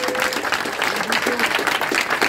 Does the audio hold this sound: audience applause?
yes